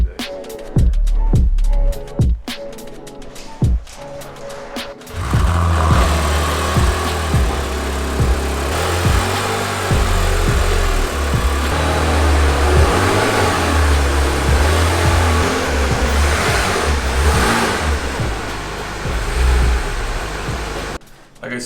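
A Porsche 991 GT3 RS engine blips sharply a few times, then settles into a steady, close, rumbling drive and low-speed cruise as the car rolls onto a car lift, with people talking faintly over it.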